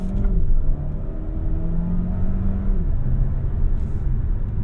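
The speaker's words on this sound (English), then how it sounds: "You can hear a lot of induction noise as well." A 2024 Dodge Hornet R/T Track Pack accelerating hard from the cabin, its engine rising through the revs with a brief gear change, a steady intake rumble droning underneath throughout.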